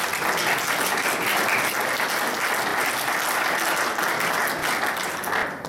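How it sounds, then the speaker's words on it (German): An audience at a German political talk on euro rescue policy breaks into sustained applause, a dense, steady wash of clapping that holds at full strength for several seconds before easing slightly at the end. "Applaus"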